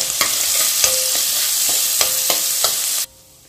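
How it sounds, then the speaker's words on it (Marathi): Steady sizzling of onions, cumin seeds and curry leaves frying golden in a pan, broken by repeated scraping clicks of a spoon stirring, then cutting off abruptly. "कढीपत्ता, कांदा सोनेरी कलरवर भाजून घेऊया।"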